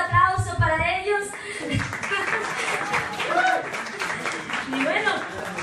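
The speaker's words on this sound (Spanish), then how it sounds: "Un fuerte aplauso para ellos." An audience at a holiday talent show breaks into applause, a steady wash of clapping that runs throughout while a host keeps talking over it.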